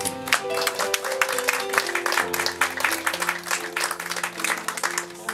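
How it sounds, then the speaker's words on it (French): Audience applause for a pianist at an evening reading event, sustained clapping from a crowd mixed with held piano chords, fairly loud and continuous throughout. "Sophie Thorin, on l'applaudit"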